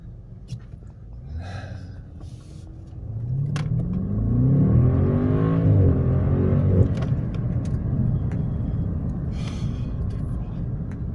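A BMW xDrive car climbs uphill on a test course, its engine revving up into a strong rising roar, then holding a steady drone, with people talking nearby.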